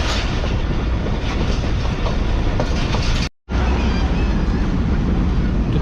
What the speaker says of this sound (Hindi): 12 बजे जो है हमारी ट्रेन वो लाड़काना शहर में एंटर हो चुकी है